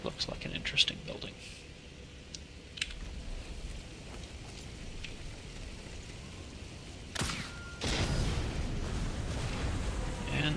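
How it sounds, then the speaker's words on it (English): An explosion in the Sniper Elite 4 video game: after a stretch of quiet ambience with faint clicks, a sudden blast bursts out near the end and settles into a sustained, loud roaring rumble. "that is an explosion that nobody heard"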